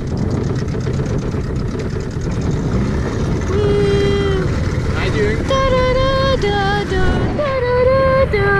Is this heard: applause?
no